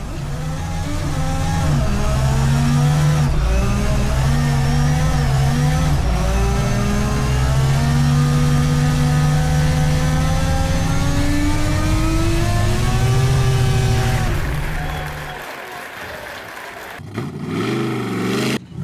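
A Volvo race car on the Silverstone track accelerates hard, its engine loud and close, rising steadily through the gears for several seconds before cutting off abruptly and leaving a brief rumble.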